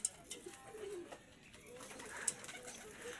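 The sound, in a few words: racing pigeons arriving and cooing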